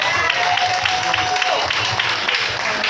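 An audience at a live performance applauds steadily, a dense wash of clapping that fills the whole moment, with a voice speaking over it.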